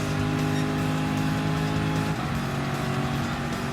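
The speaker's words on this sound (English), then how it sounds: "two cars going in and one coming out of the pits" Gr.3 race cars roar along the pit lane at Dragon Trail Gardens in Gran Turismo Sport, loud continuous engine drone with tire noise and a car sweeping past midway, no voices.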